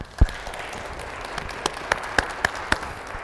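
An audience at a talk gives a short burst of applause to welcome a speaker, an initial thump followed by a few scattered claps that fade against the room's hum.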